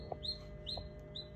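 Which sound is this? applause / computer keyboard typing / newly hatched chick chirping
newly hatched chick chirping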